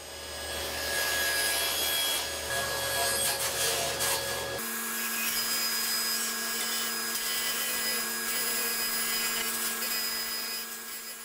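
A table saw cuts a ring from an old shop vac tank, a loud continuous whining rasp that shifts abruptly partway through to a steadier, higher hum, with no talk.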